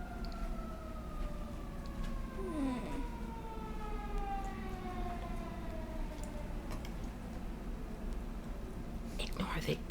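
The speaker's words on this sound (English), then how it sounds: "Ignore the siren in the background." A wailing emergency siren sweeps up and down in the distance, steady under low background noise and faint talk.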